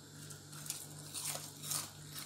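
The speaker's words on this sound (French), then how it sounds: "Quand on croque sur le beignet," Crisp fried shrimp fritters are bitten into up close, giving a few faint, brittle crunches spaced through a quiet moment.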